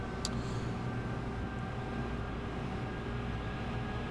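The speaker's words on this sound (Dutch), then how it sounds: "ik bestuur de trein nu zelf" Train driven by the player in Train Simulator 2016 on a route to Pudong, a steady low rumble with faint tonal whine running evenly throughout, no voices.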